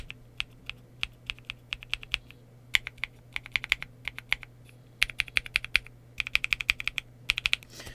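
Someone types on a Leobog K81 mechanical keyboard with a polycarbonate case, producing crisp, close clacks in uneven bursts of rapid strokes over a faint steady hum.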